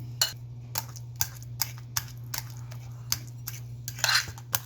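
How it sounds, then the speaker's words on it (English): A utensil crushes banana into a paste in a bowl, making a series of sharp, evenly spaced clicks and scrapes, close and fairly quiet over a low steady hum. "she has to crush it and turn it into a paste"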